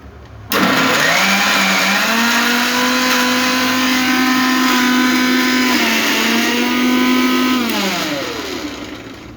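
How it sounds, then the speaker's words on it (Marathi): A mixer grinder finely grinds soybeans, its motor starting abruptly with a loud, steady whine that holds for several seconds, dips briefly, then winds down near the end, close and alone. "आता हे आपण सोयाबीन कसे बारीक केलेले आहेत तसं आपण बारीक करायचं आहे"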